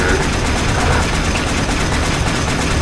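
Boltor rifle in the Warframe video game firing continuously, a loud, dense, unbroken stream of rapid shots filling the whole stretch.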